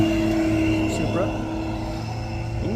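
At a high-end cars and coffee gathering, a turbocharged car rolls past with a steady engine drone, heard nearby under people talking.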